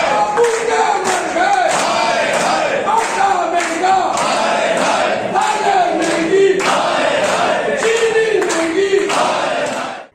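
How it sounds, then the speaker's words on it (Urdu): A large crowd at a grand meeting of seventeen trade unions in Sindh chants slogans in loud, rhythmic unison, call-and-response shouts repeating steadily and close by for the whole stretch. "نعرے بھی سنیے ذرا غور سے."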